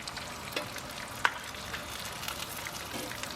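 An aged Wagyu ribeye steak sears in a pan and is basted with butter, giving a soft, continuous sizzle with a sharp spoon clink partway through.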